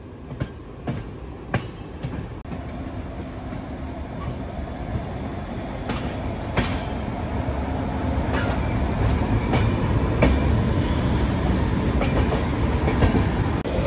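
A train runs past the electric loco shed at Visakhapatnam, with rhythmic clickety-clack wheel beats over a continuous rumble that grows gradually louder as it travels.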